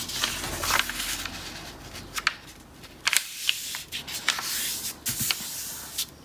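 Paper being creased and folded by hand while making a pig cootie catcher: soft crinkles and sharp rustles, quiet and close, with brief louder creases.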